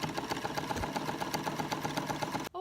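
Sewing machine stitching fabric for bedroom curtains, a fast steady mechanical whirring patter running continuously close by, then stopping abruptly at the end.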